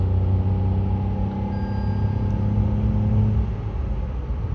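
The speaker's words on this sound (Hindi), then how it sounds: "तो ये मैंने फुल दबाया है 4th गियर में, तो ये गई।" Tata Tiago CNG AMT hatchback running on CNG with the AC on, pulling hard at full throttle in fourth gear for an overtake: a steady, loud engine drone with a low rumble and harmonic hum throughout, no talk.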